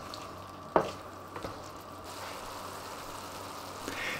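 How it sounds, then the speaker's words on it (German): Liquid poured into a hot pan of mushroom and bacon Geschnetzeltes to lift the browned bits, giving a soft steady sizzle and bubbling throughout, with a brief clink near the start and no talking. "Mit der Flüssigkeit können wir nun bequem alle Röststoffe vom Pfannenboden lösen."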